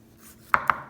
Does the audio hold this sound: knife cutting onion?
yes